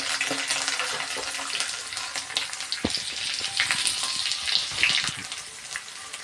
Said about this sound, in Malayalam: കറിവേപ്പില ഇട്ട് നമ്മൾ നന്നായി ഇളക്കി കൊടുക്കുക.